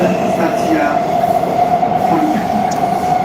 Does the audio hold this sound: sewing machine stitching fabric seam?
no